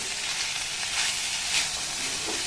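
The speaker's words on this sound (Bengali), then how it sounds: "পনিরটা দেওয়ার পর এখানে আমি আর একবার একটু ভালোভাবে নাড়াচাড়া করে ভেজে নেব" Paneer frying in a pan gives an even, dense sizzling hiss that swells slightly now and then, with no voices over it.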